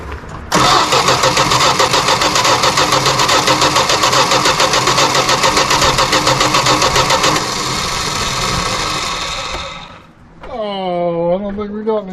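A barn-find 1973 Dodge Dart Swinger, sitting for 29 years, cranks and catches, giving a loud sustained engine roar for several seconds that eases, dips and then gives way to voices talking near the car.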